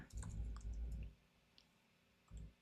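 Computer mouse clicks and light keyboard taps, a few soft, close clicks in quick clusters at the start and a single tap near the end, faint and with no talk.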